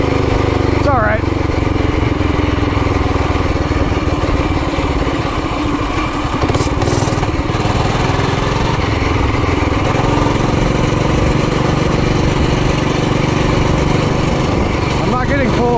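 An Arctic Cat Ramrod engine running at throttle on a test drive, a loud, continuous buzzing drone close by with shifting pitch throughout, a voice talking over it at times.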